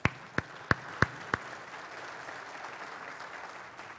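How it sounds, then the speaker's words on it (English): An audience at a lecture claps in a few sharp, separate claps, then settles into a softer, steady wash of applause. "a big applause to Jan Harzan"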